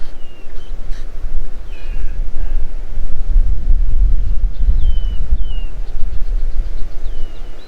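Wind buffeting the microphone beside a small bass pond, a loud continuous low rumble, with crows cawing faintly several times in the background.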